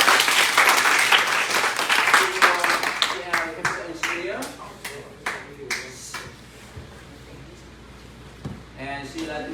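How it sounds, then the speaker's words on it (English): A burst of applause from a small group at a youth summer camp at a Buddhist temple starts loud and thins into scattered claps, with a few voices talking over it. "please give her a big applause and welcome her"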